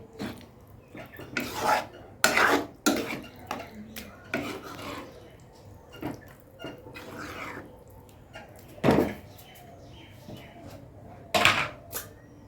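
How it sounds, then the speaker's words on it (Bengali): A spoon scrapes and knocks against a bowl as a raw mango and sago mixture is stirred, in irregular close clinks and rubbing strokes with quiet pauses between. "আমের সঙ্গে ভালো করে এটাকে আমি মিলিয়ে নিচ্ছি"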